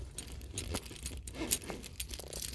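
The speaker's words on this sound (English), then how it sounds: "I have to put all my keys away so they don't clink and clink" A bunch of keys jangles and clinks in a Kroger store in Louisville, light metallic rattling in short, scattered bursts, close and fairly faint with no talk.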